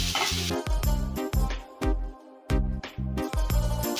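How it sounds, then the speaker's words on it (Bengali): Sliced onions frying in a pan give a close crackling sizzle broken by a series of sharp, rhythmic spatula knocks and scrapes against the pan. "পেঁয়াজটাকে গোল্ডেন ব্রাউন করে ভেজে নেব।"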